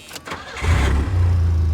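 A 1983 Chevrolet Chevette with an exhaust leak, briefly cranking before it catches, then settling into a loud, rumbling idle close by.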